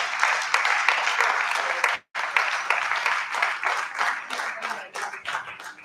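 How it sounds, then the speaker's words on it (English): Audience applause fills a room at an annual review and planning meeting, loud dense clapping that stops briefly, then resumes and tapers off. "Please have another round of applause for him."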